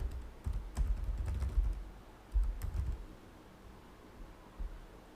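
Computer keyboard keys tapped in two quick bursts as a domain name is typed, close and fairly quiet, with a final single keystroke and no talking.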